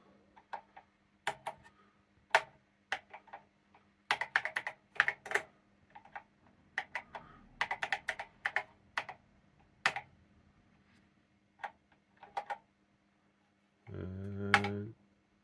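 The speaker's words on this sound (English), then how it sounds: "Oh, this keyboard is horrible." Fingers type on the keyboard of a Powertran Cortex computer, producing sparse irregular clicky keystrokes, some in quick bursts, close and fairly quiet, ending with a short low buzzing tone.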